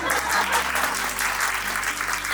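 An audience at a welcome event bursts into loud, dense clapping that holds steady with a low hum underneath.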